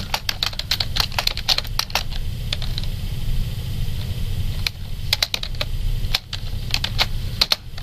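Rapid clicking of keys on a computer keyboard, typed in quick bursts with short pauses over a steady low hum, close and clear with no voices.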